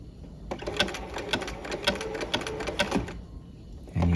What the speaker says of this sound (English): And you just keep sewing until you join up with the previous row of zigzag.